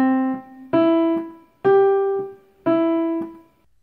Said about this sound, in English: they would be played non-legato, detached, and would sound like this